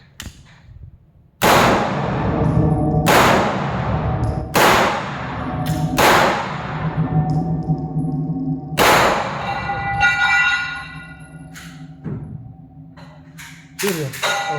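Real firearm shots at a shooting range in Sharjah, a series of loud, sharp reports spaced irregularly, each with a long ringing decay in an echoey space, heard close with faint voices between shots.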